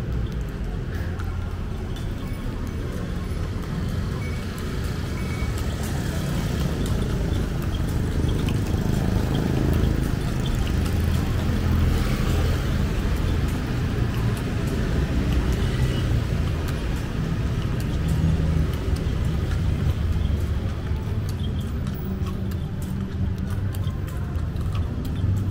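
Motor vehicle traffic streams past in Kota Tua, Jakarta, on a Saturday afternoon, a dense continuous rumble of engines with faint voices mixed into the busy street noise.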